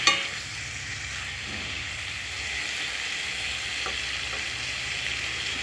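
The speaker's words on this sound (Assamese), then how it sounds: "2 মিনিটমান ভাজি লৈছোঁ, নহ'লে আদা নহৰু কেঁচা গোন্ধটো থাকি যাব" Ginger and garlic frying in a pan, a steady close sizzle that holds evenly throughout with no talking.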